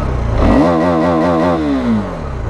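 An Aprilia RS457 motorcycle engine revs hard up to its rev limiter, holding there with a rapid bouncing warble before the revs fall away, loud and close with no talk.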